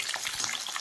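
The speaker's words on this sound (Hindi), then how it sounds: "ये गई प्याज, हल्का सा प्याज को करेंगे हम फ्राई" Onions fry in a pan with a bright, dense crackling sizzle that stays loud and even throughout the short stretch.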